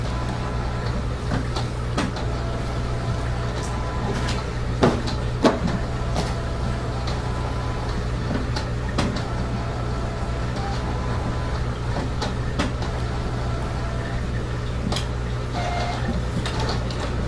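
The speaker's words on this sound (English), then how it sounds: "Kodak one is printing." A Kodak inkjet printer runs with a steady mechanical whir and hum, punctuated by a few soft clicks and clunks of the paper feed, fairly close and with no talking.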